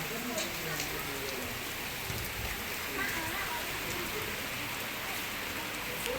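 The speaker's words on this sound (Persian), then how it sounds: "بارونیه" Steady heavy rain pours down in a dense, unbroken hiss of drops pattering on surfaces, close and continuous throughout.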